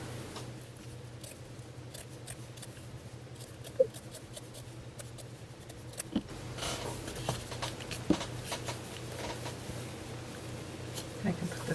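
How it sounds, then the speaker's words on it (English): Scissors cutting through burlap, with scattered snips and crunchy cuts over a quiet room hum, growing slightly busier in the second half. "I'm just going to cut that out with a pair of scissors."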